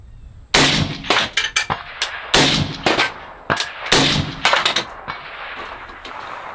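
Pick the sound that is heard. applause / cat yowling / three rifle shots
three rifle shots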